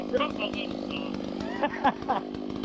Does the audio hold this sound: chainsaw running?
yes